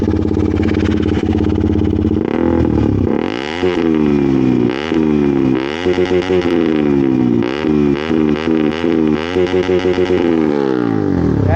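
A KTM Duke motorcycle, just back from an oil change, has its engine revved repeatedly in loud, close bursts that rise and fall over a steady idle, with one brief dip near the start.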